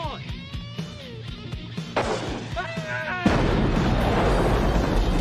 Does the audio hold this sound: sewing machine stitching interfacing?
no